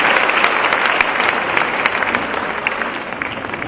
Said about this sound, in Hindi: एक बार फिर गूंजे आपकी पुरजोर तालियां, बुलंद तालियां जोश के साथ